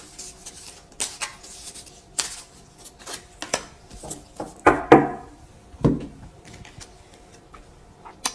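Tarot cards are shuffled and drawn, giving close, crisp flicks and taps at an irregular pace, with a longer riffling rush near the middle followed by a few soft slaps of cards being set down.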